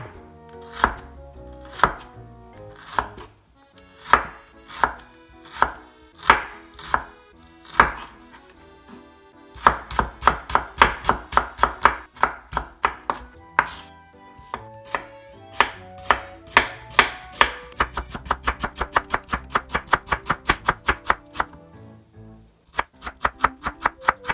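A knife slices a vegetable thinly on a cutting board for Japanese side dishes, giving close, crisp, regular chops that start slow, then speed into quick runs and bursts, with brief pauses between passes.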